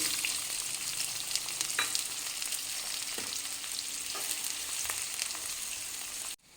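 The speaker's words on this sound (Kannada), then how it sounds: "ಎಣ್ಣೆ ಹಾಕಿದ್ದೀನಿ ಕಾದಿದೆ ಈಗ ಜೀರಿಗೆ ಹಾಕ್ಕೊಳ್ತಾ ಇದ್ದೀನಿ" Cumin seeds sizzle and crackle steadily in hot oil while a palak dal is being cooked, a continuous close frying hiss with a few small pops and stirring sounds, no voices.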